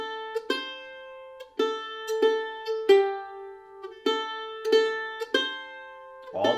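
A mandolin plays the B part melody of the bluegrass tune Cluck Old Hen with all downstrokes, a steady run of plucked notes in an even rhythm, close and clear with no talk.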